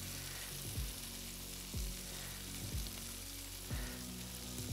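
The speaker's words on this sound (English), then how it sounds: "We love this basting process." New York strip steak basting in butter on a Pit Boss Sierra flat top griddle, a steady close sizzle and fry with periodic low scraping or clunking bursts roughly every second, no talk.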